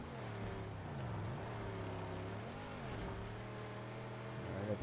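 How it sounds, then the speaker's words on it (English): Truck engine in the Mad Max video game labouring through deep sand, a sustained drone whose pitch dips and climbs in repeated revving swells, loud and unbroken. "truck does not like all this sand."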